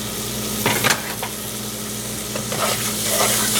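Garlic being stirred into a frying soup base for steakhouse baked potato soup, with a steady sizzle of frying and scraping stir strokes, close and continuous, no voices.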